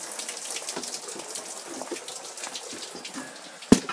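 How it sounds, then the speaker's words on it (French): Water spraying and hissing inside a burned-out house, a steady broadband wash with scattered drips and splashes close by, ending in one sharp knock. "Ici, il y a de l'eau qui pitch."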